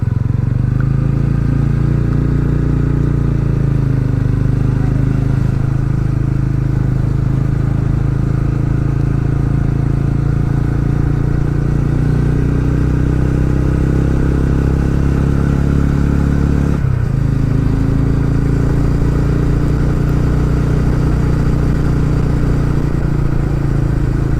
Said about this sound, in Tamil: எல்லாம் பைக்கை வச்சு விளையாண்டுட்டு இருக்காங்க.